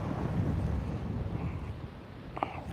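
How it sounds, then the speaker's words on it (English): Wind buffets the microphone on a bass fishing boat out on the water, a steady low rumbling roar that is strongest at the start, then eases slightly, with a brief faint rattle near the end and no voices. "it is windy."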